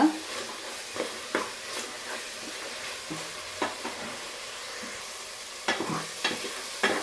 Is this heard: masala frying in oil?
yes